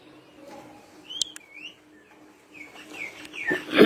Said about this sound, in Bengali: এটাই তো পাখি, তুমি তো ময়না পাখি